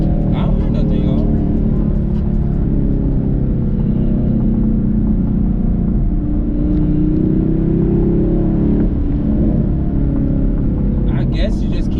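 A 2021 Chevrolet Camaro SS with its exhaust valves held open rumbles with a deep, steady drone heard from inside the car, with people talking over it.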